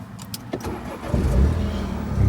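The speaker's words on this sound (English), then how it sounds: "We reach down to hit the start button," A 2018 Mini Countryman engine starts by push button: a soft click and brief clatter, then the engine catches about halfway through and settles into a steady, close, low rumble.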